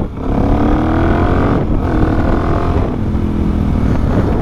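A motorcycle being ridden on an open road, its engine droning steadily and loudly close by, with pitch swelling as it accelerates and shifting gears around the middle, continuous with no talk.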